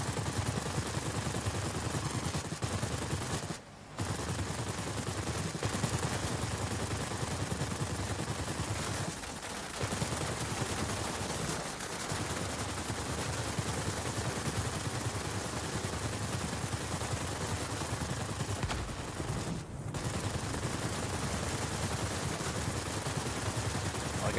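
Tail gunner machine gun fire in World of Warplanes: long, continuous rattling bursts over steady aircraft noise, broken only by a few brief pauses, with no talking.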